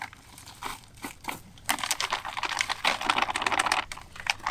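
Half a bag of dry fishing groundbait is poured out for feeder fishing. It makes a crinkly rustle of the plastic bag mixed with a granular patter, which starts softly and gets busier and louder partway through.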